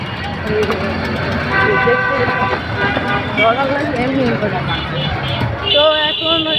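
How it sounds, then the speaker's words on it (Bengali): Car and truck horns honk repeatedly in a heavy traffic jam on a road beside a busy cattle market, sounding near and loud over engine rumble and crowd chatter. "একশো ফিটে অনেক জ্যাম গরুর হাটে লেগেছে প্রচুর জ্যাম"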